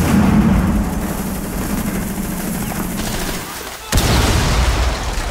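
Gunfire in the video game Rainbow Six Siege during a House Terrorist Hunt mission fires through a wall, rattling in loud dense bursts that dip briefly before a sharp blast, with excited voices over it.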